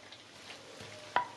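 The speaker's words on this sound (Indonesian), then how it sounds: "Terus diguyur minyak mendidih ya, bukan air mendidih." Boiling oil is poured over ground tempeh chili sambal and gives a quiet, steady sizzle with one sharper hiss near the end. No one speaks.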